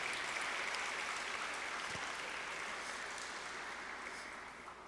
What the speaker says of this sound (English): You can give them an applause where they're coming to the stage